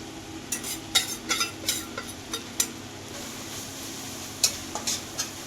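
Spices and turmeric being stirred into paneer bhurji in a pan over a low flame, a spoon scraping and clinking against the pan in irregular strokes over a soft steady sizzle, close by with no talking.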